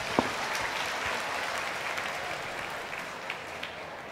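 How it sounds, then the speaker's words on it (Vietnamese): Sustained applause from an audience at a Buddhist-hosted talk with an ambassador, a steady wash of clapping with a few sharper claps standing out, fairly distant and even throughout. "Xin các bạn hãy dành một tràng pháo tay thật lớn ạ."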